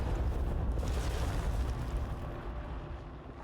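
Explosions in the video game Control make a low, broad rumbling boom that fades over a few seconds, heard fairly faintly and with no talk over it.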